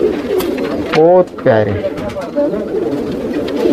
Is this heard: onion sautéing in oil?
no